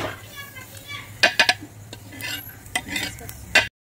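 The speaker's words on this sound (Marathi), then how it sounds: "बी भाजून घेते थांबा आता." Seeds dry-roasting in a pan on a village kitchen stove, with a spoon scraping and clinking against the metal in a few sharp strokes over low background rustle, close by and moderately loud.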